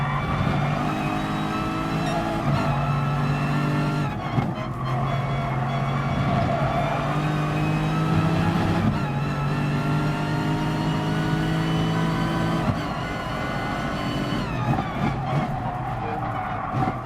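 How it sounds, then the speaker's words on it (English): A Lexus race car engine revs high and holds steady through gear changes, its loud, continuous drone rising and falling in pitch across the whole stretch. "I'm revving quite high"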